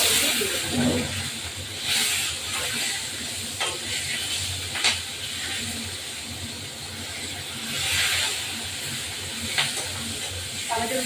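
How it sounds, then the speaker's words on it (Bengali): Green chilies sizzle in hot oil for a pabda fish curry with mustard, a steady hissing fry close by with occasional sharper crackles and light stirring. "এই কাঁচা লঙ্কাগুলো তেলের মধ্যে দেবো তাহলে ঝালটা হবে এবার এই লঙ্কাগুলো তেল ফুটবে"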